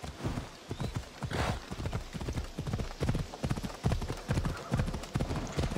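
In Assassin's Creed Odyssey, horse hooves clip-clop in a steady, quick rhythm, continuous and fairly close, with no talking.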